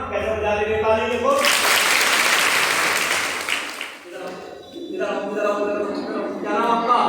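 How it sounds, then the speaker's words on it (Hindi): Schoolgirls clapping at a girls' inter college assembly, a loud burst of massed applause lasting a few seconds, set between stretches of someone talking. "जो आप ताली बजाते हैं ना, कैसे बजा रहे ताली?"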